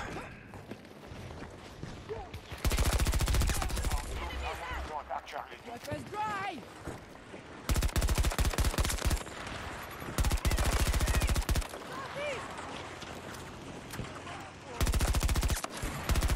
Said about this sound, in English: I'm sitting on a fucking turret all day